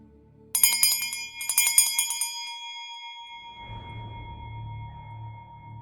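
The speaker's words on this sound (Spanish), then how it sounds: "el agudo sonido de una campanilla tirada con fuerza" A small handbell is rung forcefully, giving two bright clusters of sharp, ringing strikes that decay into a long sustained tone, followed by a low muffled rustle; no voices.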